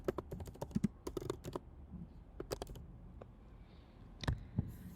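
Typing on a computer keyboard while editing a blog post, with bursts of quick close clicks separated by pauses and a couple of louder key strikes near the end.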